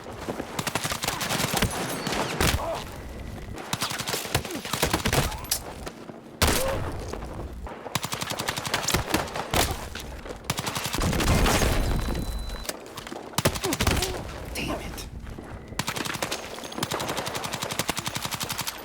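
Rapid automatic gunfire from a Battlefield 6 match comes in repeated loud bursts with short gaps between them, crackling shots over steady game background noise.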